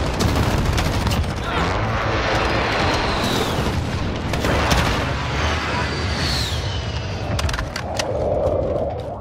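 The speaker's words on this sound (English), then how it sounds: "Allied precision airstrike in." Booming explosions from a precision airstrike in a first-person shooter game, heard as a dense, continuous barrage of blasts and gunfire lasting several seconds at high volume, with a brief tonal whine near the end.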